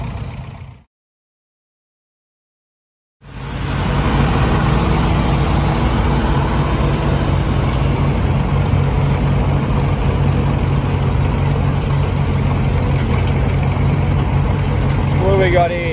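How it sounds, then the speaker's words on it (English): Vintage tractors and old engines running at a machinery rally, a steady loud rumbling drone with rain-like hiss after a short silent gap near the start. "Okay, so tractors are going now."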